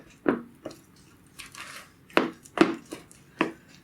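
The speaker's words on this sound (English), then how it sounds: "just using a big wooden spoon, soften that up a bit" A big wooden spoon works cream cheese in a bowl, producing a series of close, sharp knocks and soft squishy scrapes at an uneven pace, clear against near silence, with no one speaking.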